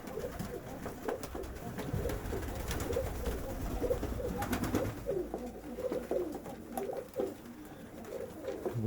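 Several feather-footed pigeons in moult coo in soft, repeated rolling calls at a morning feeding, overlapping and close, with some wing flutters and shuffling in between.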